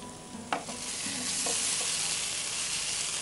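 Apples fried in ghee are stirred in a pan with milk and milk powder, a close, steady sizzle with a sharp spoon knock near the start and then soft scraping strokes. No one speaks.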